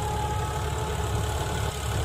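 A steady, loud tractor diesel engine chugs and rumbles continuously at close range while ploughing a field, with no voices.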